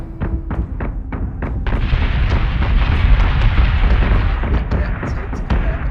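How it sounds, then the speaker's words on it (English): Missile explosions in a Battlestar Galactica space battle game start as a quick run of sharp separate blasts and then merge into a loud, sustained rumbling barrage of detonations that continues to the end. "Missiles incoming!"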